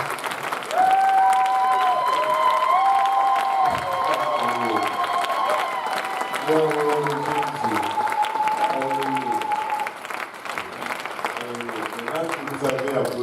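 A church congregation applauds, with continuous clapping and crowd noise running under a prominent sung or shouted voice throughout.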